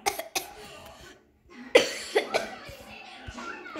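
A woman who is unwell coughs several times: sharp, harsh bursts, some in quick pairs, separated by short pauses, close to the microphone with faint background noise between.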